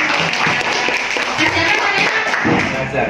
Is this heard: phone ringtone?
no